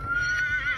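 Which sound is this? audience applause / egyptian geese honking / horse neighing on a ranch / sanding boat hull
horse neighing on a ranch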